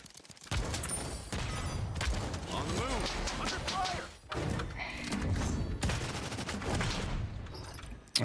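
Hand cannon handgun fire in the Realm Royale video game, with repeated sharp shots and thuds in bursts across the clip, loud and close, mixed with game noise and someone talking.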